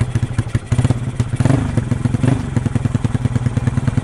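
Upgraded Yamaha Nouvo motorcycle engine revved up close, the throttle blip swelling briefly mid-way before dropping back to a loud, fast, pulsing idle.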